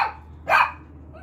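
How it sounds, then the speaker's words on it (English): A dog barks once, loud and close, in a workshop setting during a nightstand refinishing project; a shorter sound precedes it, with quiet room noise between. "my wacky dogs won't let me film video because they're busy barking"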